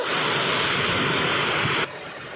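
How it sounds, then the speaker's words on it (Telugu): Loud, dense hiss of heavy rain pouring down, steady and close, then dropping abruptly to a quieter patter at the end. "ఫుల్గా పడుతుంది వాన"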